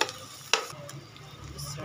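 Minced keema fries with cumin, salt and chili in a pan, a faint steady sizzle with stirring and a sharp scrape of the spoon near the middle.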